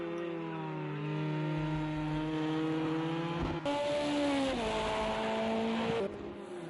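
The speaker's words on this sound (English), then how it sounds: "Gunter comes around, completes the lap here in the Ford GT" A Ford GT race car lapping in a sim racing game at Imola, its engine droning steadily with rising and falling pitch through gear changes, a sharp shift near the middle and the note dropping away toward the end.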